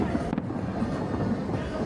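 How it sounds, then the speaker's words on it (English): Fireworks show over the Las Vegas Strip on the Fourth of July, a steady dense rumble of bursts and booms with crowd noise underneath, no clear single pops standing out. "Caesars is doing the fireworks."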